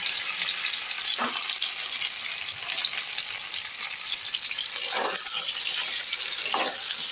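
Boiled, peeled taro fries in a pan of oil with tempering spices, making a steady sizzling hiss with a few brief stirring scrapes and no talking.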